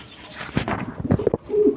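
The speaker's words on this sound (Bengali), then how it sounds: "একদম বিগ সাইজের কবুতর দেখেন দেখেন ছটপট করতেছে কবুতর" Big-sized pigeons coo in short, close bursts, with a few sharp rustles like wings flapping and a higher drawn-out call near the end.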